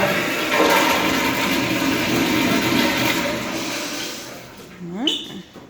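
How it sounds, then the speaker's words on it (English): A hotel toilet flushes with a loud, sustained rush of water that drains away into a gurgling refill near the end, heard close up in a bathroom with faint voices around it. "Flush it."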